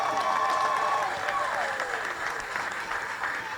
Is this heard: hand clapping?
yes